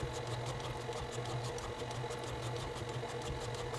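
An electric beater whirs steadily through thin chocolate cake batter, a quiet mechanical hum with rapid rhythmic pulsing, even and continuous without talk.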